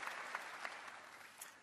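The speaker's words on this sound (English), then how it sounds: "Let's give Ray a round of applause, everybody." Audience at a Cisco Live 2024 keynote in Melbourne, with a broad, continuous wash of applause from a large crowd, fairly faint and distant and gradually tapering off, with no talk.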